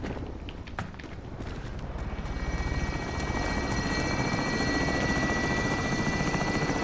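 A helicopter in the video game Call of Duty Warzone sends a loud, continuous rapid rotor thump that grows slightly stronger and steadier over several seconds, without speech.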